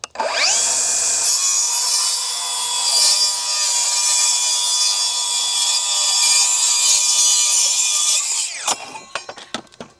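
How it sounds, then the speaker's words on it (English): A Milwaukee Gen 2 rear handle circular saw with a thin kerf blade rips along a 2x6, giving a loud, steady high whine for about eight seconds before spinning down with a few clatters at the end. "Here's a rip on a 2x6."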